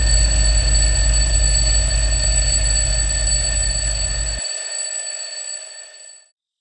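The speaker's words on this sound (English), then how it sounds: "After half an hour, the alarm went off." An alarm clock rings loudly and steadily with a bright, sustained electronic tone, stopping abruptly partway through and leaving a fading ring-out before silence.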